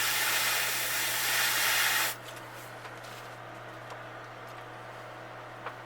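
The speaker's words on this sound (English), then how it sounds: "Spray a little white." An airbrush sprays white paint through a gill stencil wheel onto a bluegill fish lure, a steady close hiss lasting about two seconds before cutting off, leaving faint handling sounds and a low hum.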